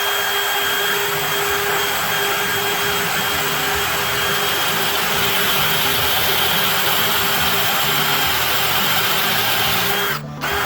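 A drill whines continuously at a steady pitch while installing a fuel line on a 1970 Pontiac LeMans GTO, loud and close, running for about ten seconds before briefly cutting out near the end.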